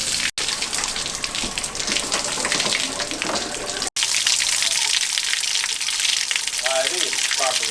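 Water gushes loudly and steadily through a flushed radiator on a 1999 Jeep Cherokee XJ, a continuous rushing spray with a short break partway, and brief voices near the end.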